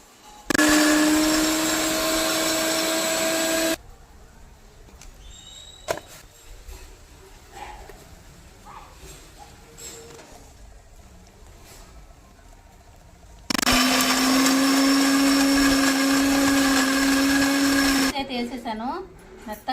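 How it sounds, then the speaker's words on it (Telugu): A mixer grinder whirs loudly as it grinds ginger and shallots with oil, in two long steady bursts separated by a quieter stretch of clinking and handling. "దీంట్లో నేను నీళ్ళు వేయకుండా కొంచెం నూనె అనేది వేసుకొని మిక్సీ పట్టుకుంటున్నాను"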